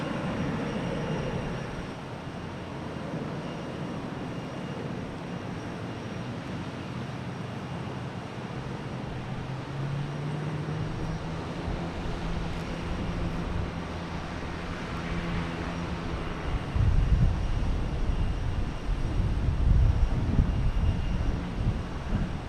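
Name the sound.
Spirit Airlines airplane taking off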